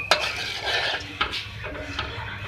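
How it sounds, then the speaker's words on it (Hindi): Metal spoon stirring sugar into a bubbling pot of liquid for a bread dessert, with repeated scraping clinks against the pan over a low simmering sizzle, close up. "चमचा हिलाते रहेंगे।"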